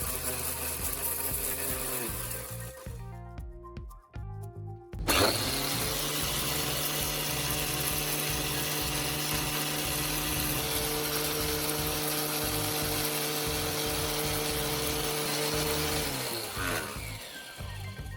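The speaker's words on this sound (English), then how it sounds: "turned it on, and watched as the powerful blades quickly pulverized the lentils into a fine powder" A homemade blender built from an angle grinder with a knife blade pulverizes lentils, giving a loud, steady high-speed motor whine with grinding rattle. The whine cuts out briefly, then restarts and runs continuously.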